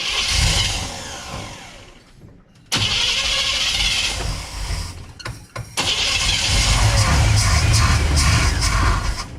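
A 1966 Chevrolet C10 small-block V8, not run in over ten years, cranks, stumbles and catches, then settles into a loud, rough idle up close with a few uneven revs.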